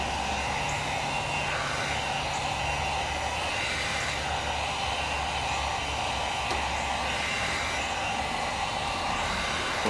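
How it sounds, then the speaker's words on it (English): A heat gun warms amber corner tint film on a 2009-2014 Ford F150 headlight, giving a steady, loud, broadband blowing hiss that runs unbroken throughout, close to the listener. "you apply a little heat and it just wants to wrap and fall in there itself"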